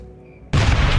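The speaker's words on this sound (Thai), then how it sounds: "นี่เราก็โยนระเบิดไปเลย" A grenade blast in the survival video game Last Day on Earth, one sudden loud boom that follows a quiet moment and then fills the rest of the clip with a broad rumbling roar.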